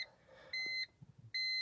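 A BMW X3 E83 with N52 engine sounds its door-open key warning: two clean, steady electronic beeps with a short gap between them, close and clear over faint interior noise.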